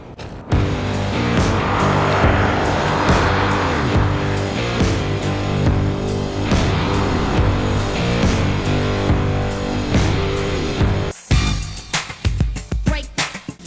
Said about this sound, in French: on va faire passer la voiture devant ce panneau de virage serré